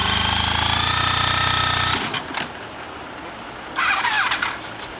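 An ST 1300 motorcycle engine turns over and catches, a rough mechanical clatter giving way to a low idling rumble, with a brief revving burst near the end.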